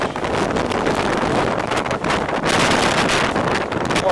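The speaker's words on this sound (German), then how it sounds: "Ordentlicher Sturm." Strong gusty wind roars across the microphone during an e-mountain-bike ride on the Anninger, a loud continuous buffeting that rises and dips in waves.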